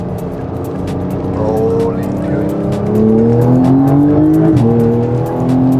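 A Porsche 911 in second gear pulls hard, engine note climbing in pitch, dipping briefly at a shift, then rising again, loud and close from inside the cabin with a brief spoken word.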